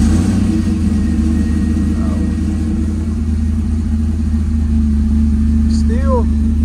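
An LS V8 engine runs at a steady, loud, rumbling idle up close, with a constant low drone throughout.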